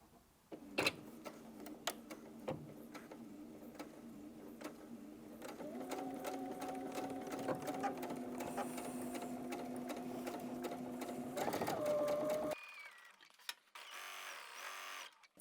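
A domestic sewing machine stitches a Tilda fabric pillowcase with pins left in; a few clicks and short bursts give way to a long steady whirring run, then it stops and a brief quieter mechanical sound follows.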